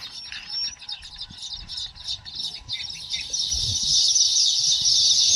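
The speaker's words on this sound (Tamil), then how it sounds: "பாருங்கள் எவ்வளோ சிட்டுக்குருவி பறக்குது பார்த்தீங்களா" A flock of sparrows at a farm where paddy grain is scattered for them, twittering densely and continuously, the shrill chatter growing fuller and louder toward the end, with faint soft flutters beneath.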